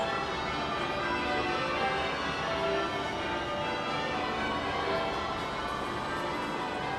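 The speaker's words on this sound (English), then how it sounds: "the ring of bells of Westminster Abbey" The bells of Westminster Abbey ring continuously at a royal wedding in a dense, overlapping peal, steady and moderately loud, with no voices.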